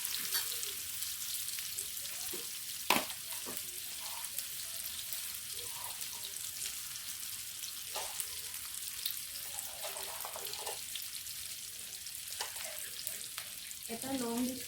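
Chopped onions sizzle steadily in oil left over from frying fish, a continuous close crackle with occasional stirring clatter and a brief clink of a utensil.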